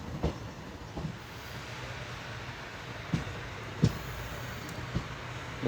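Express train rolling into Erode Junction station on the diverted Kannur–Bengaluru service, steady low rumble of wheels with periodic clacks and thumps over rail joints, heard from inside the coach.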